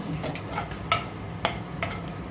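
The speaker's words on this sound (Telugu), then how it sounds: "మనం ఈ ప్రాసెస్ అంతా చేసేలోపు ఈ కొబ్బరి అనేది బాగా వేగుతూ ఉంటుంది" Grated coconut dry-roasts in a pan over a medium flame and is stirred, with soft scraping and a few sharp taps of the spoon against the pan over a faint, quiet background.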